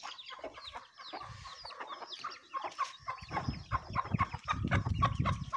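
Chickens cluck and squawk in agitated bursts as a hen is chased and caught in a Punjabi village, the calls growing louder and more frantic toward the end, with scuffling underneath.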